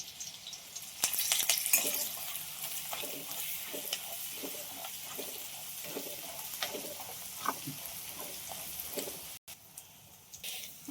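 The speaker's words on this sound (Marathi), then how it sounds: "आता मसाला सगळ्यांना शिल्लक होता सगळा टाकतो तेलात परतून घेऊया आपण" Garlic and leftover masala frying in hot oil for a home-cooked eggplant dish, a steady sizzle broken by scraping stirs and soft clatters, close and alone with no talk.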